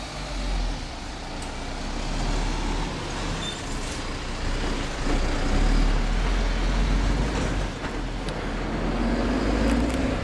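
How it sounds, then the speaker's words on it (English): A lorry drives past on an Oxford street, a loud, continuous low engine rumble with traffic noise that holds steady for about ten seconds, with no talking. "Just a moment, there's a lorry coming past."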